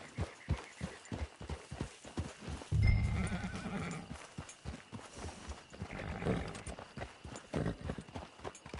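Horse hooves clip-clop in a steady trotting rhythm in Red Dead Redemption 2, close and clear, with a loud whinny and snort rising midway and another softer neigh later.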